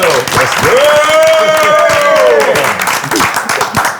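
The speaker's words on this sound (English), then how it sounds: "Yo, please give them a round of applause." A podcast studio audience applauds the guests, with clapping running throughout while a voice talks over it and draws out a long call.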